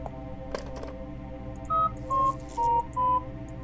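Four evenly spaced telephone keypad dialing tones in the video game Fran Bow, each a clean short beep, preceded by soft clicks over a low ambient background.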